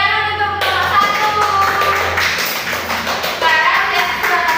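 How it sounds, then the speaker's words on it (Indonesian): Students in a micro-teaching classroom clap for the first group, a steady patter of many hands close by, lasting the whole stretch with some voices mixed in. "Beri tepuk tangan untuk kelompok 1."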